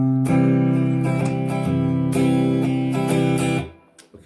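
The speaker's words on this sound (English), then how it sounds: "Hit the root, strum the chord" Acoustic guitar chords strummed in a steady down-up pattern, bright and close, ringing for several seconds before fading out. No talking.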